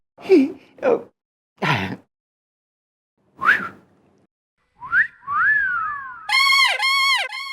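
Loud whistling from an audience at a live comedy show, with several short sharp bursts that give way to sustained rising and falling two-fingered whistles, near and overlapping.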